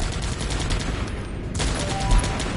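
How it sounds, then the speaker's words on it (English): Rapid, dense gunfire crackles in the military strategy video game Guns Up!, with fast bursts of shots running continuously and a brief louder pop near the end. "Stop that firing."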